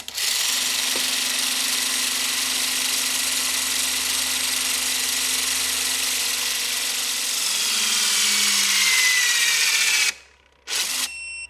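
A HYTORC centerlock wheel gun loosens a race car wheel with a loud, sustained mechanical whine and buzz. Near the end it cuts off sharply, followed by a short second burst and another stop.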